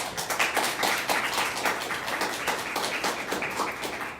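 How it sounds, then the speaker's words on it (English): Audience applause at a university lecture on Palestine and Islamophobia, a steady patter of many hands clapping at moderate distance for a few seconds, with no voices over it. "please give them a round of applause"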